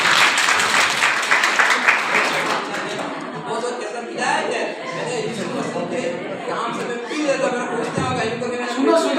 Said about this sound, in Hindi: धन्यवाद के ताली बजाओ एक बार।